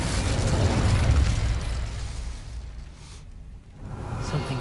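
The Incendio fire spell is cast in Hogwarts Legacy, a sustained, loud whooshing roar of flame that dips briefly near the end before swelling again.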